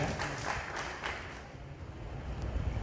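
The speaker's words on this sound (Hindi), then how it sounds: "कृपया ताली बजा के उनका अभिनंदन किया जाए।" Audience applause at an Anti-Corruption Committee of India seminar and felicitation event in Singrauli, a steady wash of many hands clapping, moderately loud and slightly distant, tapering off toward the end.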